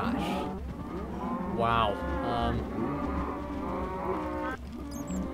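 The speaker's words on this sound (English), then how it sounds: "So many cows." Several cows mooing in a video game set in an outdoor mine area, with long overlapping low moos one after another and a brief exclamation from a person over them.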